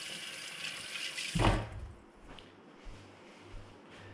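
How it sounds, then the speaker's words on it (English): Tap water running at a sink for hand washing in a home kitchen, a steady close gush that cuts off after about a second and a half, leaving faint quiet handling noises. "I'm gonna go wash my hands."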